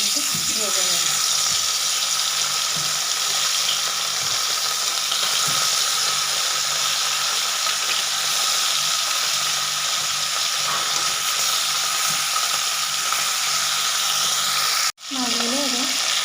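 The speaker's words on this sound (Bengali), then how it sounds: "এদিকে কড়াইতে তেল গরম হয়ে গেছে। এবার আমি ভোলা মাছগুলো একে একে উল্টে পাল্টে ভেজে নেব।" Bhola fish pieces frying in hot oil in a wok make a loud, dense, continuous sizzle close by, with faint stirring and scraping sounds and a brief break near the end.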